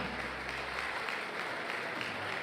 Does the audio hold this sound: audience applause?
yes